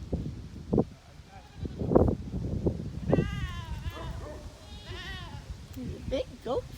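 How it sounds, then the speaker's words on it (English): Goats on a farm bleat several times at close range, their wavering cries rising over a steady mix of people talking nearby. "A lot of goats over there."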